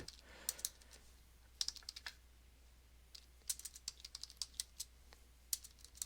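Fast, irregular bursts of typing on a computer keyboard, close and fairly quiet, with short pauses between clusters of keystrokes and no talk.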